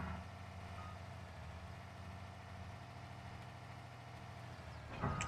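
A truck in Farming Simulator 22 idles with a steady low engine drone while faint repeated reversing beeps pulse underneath, a brief louder burst at the end.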